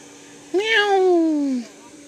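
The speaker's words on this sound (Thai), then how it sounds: "เสียงแมวอยู่ใช่ดิแมว" A single cat's meow, loud and close, rising then sliding down in a drawn-out cry of about a second, heard alone on a cold, dark rainy night.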